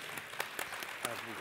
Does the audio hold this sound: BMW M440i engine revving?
no